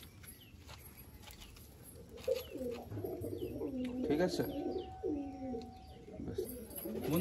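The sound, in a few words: pigeons cooing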